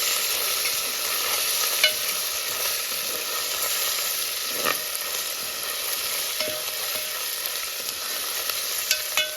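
Ginger garlic paste frying in a pan, a steady close sizzle with occasional stirring scrapes and light pops throughout, no talking.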